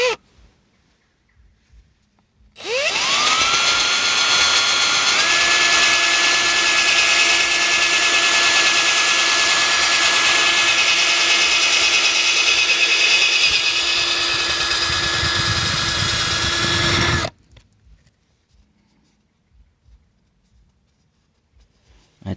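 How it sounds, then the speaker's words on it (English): Power sanding of curb rash on a Tesla wheel with coarser 100-grit sandpaper: a loud, steady whirring grind starts abruptly, holds constant for about fifteen seconds with a faint tonal whine, then cuts off, leaving quiet before and after. "it's going to require a bit more sanding"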